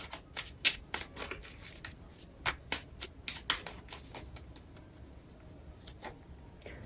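A deck of oracle cards is shuffled close by, with quiet, irregular bursts of riffling, flicking and tapping separated by brief pauses, and no voices.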